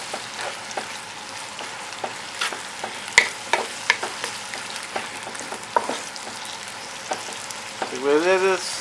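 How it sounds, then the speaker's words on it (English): Chicken pieces frying in a pan, being prepared for fried bora, giving a steady close sizzle with scattered crackles and stirring clatter, with a short voice at the very end. "the chicken will be frying"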